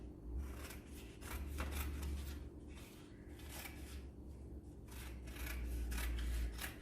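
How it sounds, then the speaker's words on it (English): Scissors snipping paper into strips for mat weaving, a close, quiet series of repeated crisp cuts and rustles at an uneven pace over a low steady hum, with no talking. "So we're going to cut strips only up to that line."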